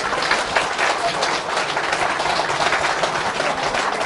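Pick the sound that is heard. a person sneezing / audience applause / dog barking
audience applause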